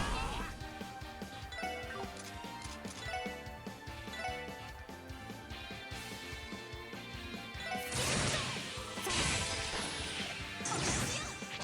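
A power smash attack lands in the Trails from Zero video game, with a heavy crash and bursts of whooshing impact over dense game music and effects, while a player talks.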